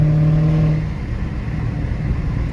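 Dodge Scat Pack 392 engine droning steadily from inside the car on a night drive, a low rumble with a brief steady tone early, then even cruising road noise.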